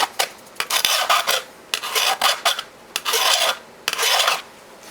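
A hand file rasps over a European scythe blade in repeated strokes, several bursts of gritty scraping separated by short pauses, close and fairly loud with no talking.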